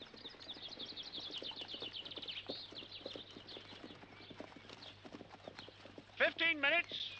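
Steady clip-clop of horse hooves trotting along at an even rhythm, with a high-pitched whinny near the end.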